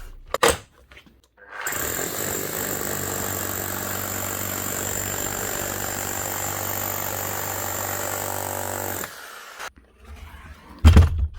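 An old repaired hammer drill runs for about seven seconds, a loud continuous rattling hammer action with a steady motor whine, starting and stopping abruptly between brief handling clunks.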